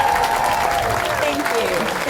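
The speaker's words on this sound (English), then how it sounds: "Please give it up for my good friend" An audience applauds at a ribbon cutting ceremony for the Bob Hall Pier, a steady dense wash of clapping from a sizable crowd that continues throughout.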